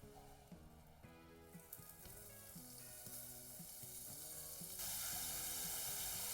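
Raw meat for Bolognese fries in a pan with a steady, close sizzle that builds louder toward the end, with faint background tones and no talking.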